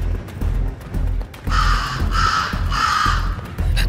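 A pink, purple-winged Opila bird creature from a Monsterverse-style monster video game gives two harsh, crow-like cawing calls in a row, loud and close over a steady game background.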